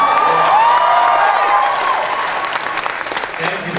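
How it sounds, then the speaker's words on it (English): A crowd at a fan event applauds loudly with cheering and whoops, a thick wash of clapping with a high shout rising over it, easing slightly toward the end while voices mingle in. "thank you for that applause"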